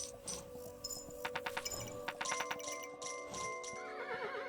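A horse in the video game Kingdom: New Lands gives a clear whinny over clip-clopping hooves and a faint jingle, close and prominent, with a rapid burst of rhythmic hoofbeats in the middle.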